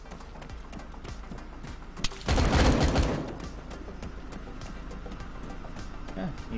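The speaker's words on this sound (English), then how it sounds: "Was some heavy fire." A burst of heavy gunfire in an Arma 3 battle royale match, a dense loud volley lasting about a second amid quieter background game noise and scattered softer shots.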